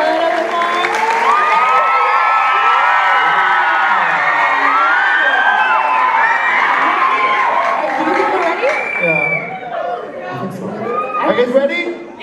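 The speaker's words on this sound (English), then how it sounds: "so can we get a little bit of an applause here?" A large crowd at the FILCAN 2017 event claps and cheers loudly and continuously, with whoops and children's shouts rising over the steady applause and a few voices briefly cutting through near the end.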